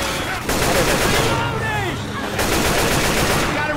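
Rapid, overlapping gunfire erupts in a Left 4 Dead 2 battle, loud and close, with continuous shots filling nearly the whole stretch and a short lull midway, voices faintly present.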